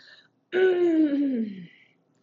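A single drawn-out throat clearing, a voiced, gravelly rumble that slides downward in pitch and lasts just over a second.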